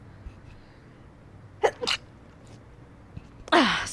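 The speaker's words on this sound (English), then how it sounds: "I'm gonna sneeze." A single sharp human sneeze bursts out near the end, loud and close, after a couple of quieter breaths or sniffs in an otherwise quiet room.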